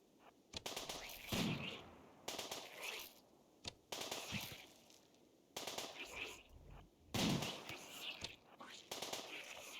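Sniper rifle fire in the RimWorld colony game: a series of sharp, loud shots at irregular intervals, with short quieter gaps between them.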